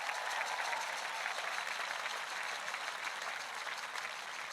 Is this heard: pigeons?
no